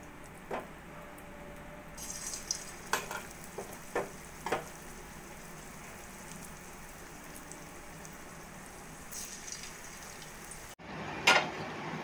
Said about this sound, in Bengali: একইভাবে আমি বাকি বড়াগুলো ভেজে নেব।